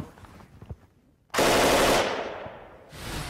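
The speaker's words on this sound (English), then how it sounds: "one of the unique features of the saw is now I can fire from a 30-round magazine" An M249 squad automatic weapon fed from a 30-round M16 magazine fires a loud, sustained automatic burst after a quieter stretch, then a second burst starts near the end.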